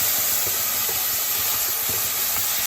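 Mutton cooking in a pan on a home stove, giving a steady, continuous steamy hiss and sizzle with faint stirring clinks underneath, close and even throughout with no talking.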